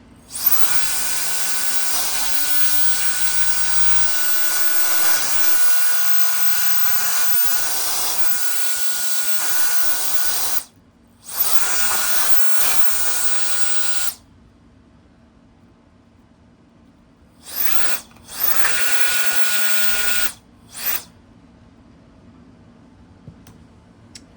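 A small air blower drives a steady, loud hiss of air across a Sony MEX-N5000BT car stereo during cleaning, cutting out twice and then returning in a few short bursts.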